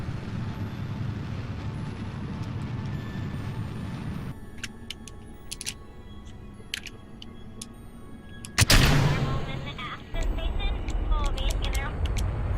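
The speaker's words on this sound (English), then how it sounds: "And then the 3 rockets will finish the burn." Rocket engines roaring in Kerbal Space Program during an ascent toward a Mun landing, a loud continuous rumble that thins and then surges again after a sharp burst, with scattered clicks.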